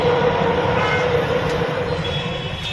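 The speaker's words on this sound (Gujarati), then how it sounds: "સામે ટ્રેન જાય છે" Loud rumbling clatter of a train rolling past nearby on an elevated track above road traffic in Surat, steady and heavy for the whole stretch, with no speech.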